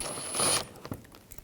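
A ratchet starts the small bolts on a 2011-2018 Volkswagen Jetta 2.0L radiator, with a brief loud whir of rapid clicking followed by a few sharp metallic taps close by.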